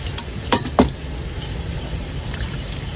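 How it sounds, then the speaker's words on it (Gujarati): Onions fry in a pan on a Porbandar fishing boat, giving a continuous soft sizzle with two sharp clinks of a utensil against the pan near the start, close by and with no speech. "અત્યારે ડુંગળી પાકી રહી છે"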